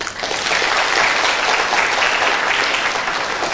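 Short burst of applause from the audience at a Buddhist dharma talk on success in dharma and career, dense clapping that swells quickly and holds steady.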